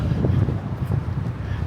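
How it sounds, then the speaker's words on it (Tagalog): Strong gusting wind on a Chicago street near Jackson Boulevard, buffeting low and rumbly close to the microphone in uneven bursts. "Tindi ng hangin."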